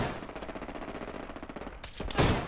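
Rapid gunfire in the video game Fallout London, a dense run of machine-gun shots rattling steadily before a louder, heavier burst near the end, with no talk.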